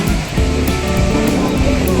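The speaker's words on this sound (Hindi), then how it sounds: "लहरें तेज हो गई।" Strong sea waves surge and wash steadily along a beach in Goa, a loud continuous roar of surf close by with no break across the short stretch.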